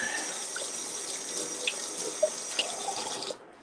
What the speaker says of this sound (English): just want to rinse my hand